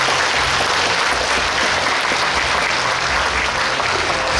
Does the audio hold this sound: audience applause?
yes